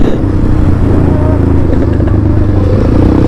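An RC motorcycle engine roars loud and close during a morning ride, its throttle held in a continuous rough drone with slight rises in pitch.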